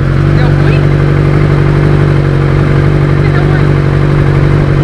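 A Yamaha XJ6N motorcycle engine idles steadily with a constant low hum and rattling clatter, overheating to 119°C, a cooling fan whirring continuously underneath.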